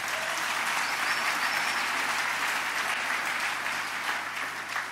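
A church congregation at a Sunday worship service applauds, a dense, continuous roar of clapping hands that fills the space at steady loudness from start to finish.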